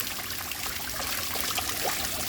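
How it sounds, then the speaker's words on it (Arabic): Water spills and trickles steadily down a small garden waterfall, a constant soft rushing close by with no voices. "هذا هو الماء يتدفق."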